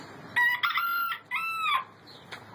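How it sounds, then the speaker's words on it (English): A rooster crows twice in close succession, loud and near, each crow a drawn-out strained call, followed by a brief softer cluck. "Let's do this sound. Saying cock-a-doodle-doo."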